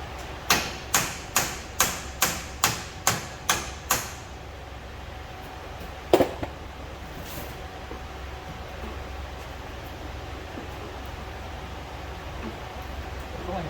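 A hammer strikes a rear axle seal in a quick run of about eight sharp, evenly spaced metallic blows, then a single louder hit after a pause, over a low, steady background hum.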